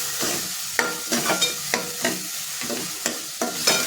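A paste of ginger, garlic, green chili and coriander is sautéed and stirred in a pan. Close, rhythmic scraping strokes repeat about every half second over a soft sizzle, with no voices.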